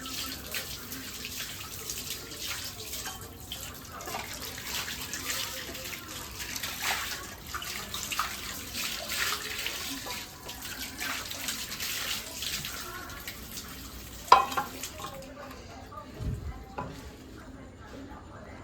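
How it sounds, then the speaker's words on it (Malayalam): Hot water is poured into a home kitchen container as a steady broadband splash that runs for about fifteen seconds, then stops, followed by a few faint clinks. "ചൂടുവെള്ളം ഒഴിച്ചു കൊടുക്കാം"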